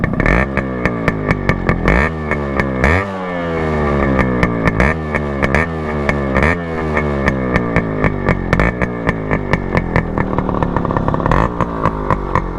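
A Yamaha RX135 motorcycle with a loud exhaust revs repeatedly, rising and falling in sharp bursts over a steady rumbling idle, loud and close, with no voices.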